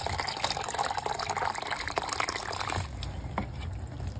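Water running from a tap into a container with a continuous splashing trickle, steady and close, easing slightly toward the end; no one speaks over it.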